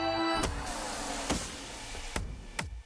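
Power window on a Chrysler 300C, recorded up close: short motor runs, each ending in a sharp click or thump, about four in quick succession.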